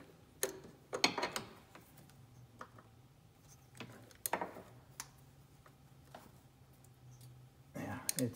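A socket wrench loosens a bolt during an oil change on a 2016 Mercedes-Benz GLA 45 AMG, making faint scattered ratchet clicks and metallic taps close by, with quiet handling noises between them.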